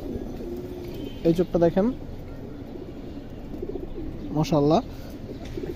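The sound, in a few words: Indian highflyer Kaldom pigeon cooing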